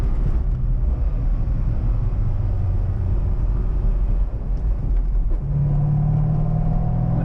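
A C6 Corvette's V8 rumbles steadily while braking and downshifting from fourth to third, with an automatic rev-match blip lifting the engine note near the end, heard from inside the car without talk.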